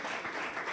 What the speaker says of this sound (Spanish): Dele el aplauso a nuestro dueño.